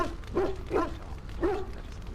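A dog in Dragon Age Origins gives three short, soft woofs spaced about half a second apart, somewhat muffled and moderately distant against a quiet game backdrop.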